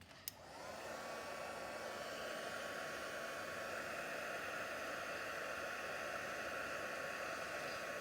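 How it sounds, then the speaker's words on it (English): A heat gun blows a steady, loud, even whoosh with a faint high whine as it heat-embosses powder on craft paper. It starts with a short click and runs unbroken to the end, with no voices. "so I'll just heat emboss that."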